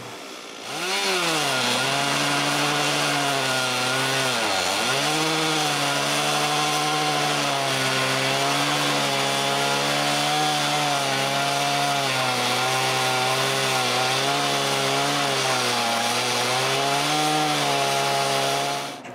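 A chainsaw rips planks from a log outdoors: a loud, sustained engine drone that dips briefly early on, then holds a steady cutting pitch with slight wavering until it stops at the end.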